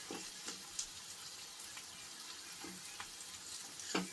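Seeds spluttering in hot oil in a home kitchen pan, scattered faint crackles and pops over a soft, steady sizzle with no voices.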